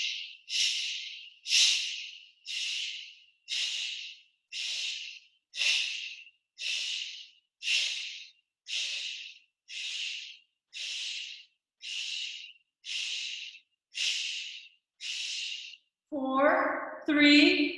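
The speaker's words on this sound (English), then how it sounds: "And another set of fire breathing." Rapid, forceful fire breathing in a yoga session: about fifteen sharp, evenly spaced nasal exhales in a steady pulse, close and loud, followed by a brief voiced sound at the end.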